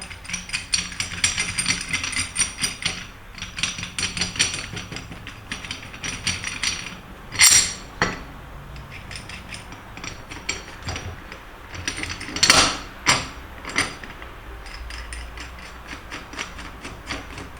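Clicking ratchet and metal mechanism sounds as a bearing separator is fitted and tightened onto a motorcycle axle to pull a wheel bearing, with steady ratcheting and a few louder knocks near the middle and later.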